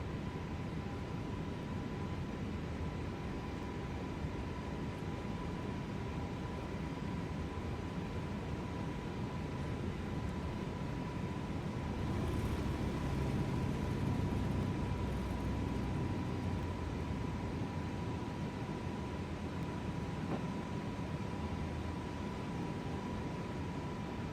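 Airbus A320 engines in Microsoft Flight Simulator 2024, a steady, even broadband roar with a faint constant hum, droning unchanged for over twenty seconds at a moderate, distant-sounding level with no voices.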